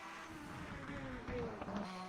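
A McLaren racing car at full throttle through a left-hander and chicane in a 1988 British Grand Prix qualifying sim race, engine droning steadily with brief pitch shifts while a commentator talks over it.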